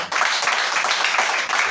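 A church congregation at a tabernacle in Libreville, Gabon, bursting into dense, sustained clapping and cheering, loud and close, a continuous wash of many hands with no single voice standing out.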